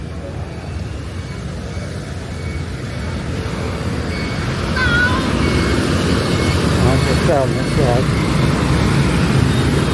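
Steady street traffic roars at close range, engines swelling louder midway, under a person's talking.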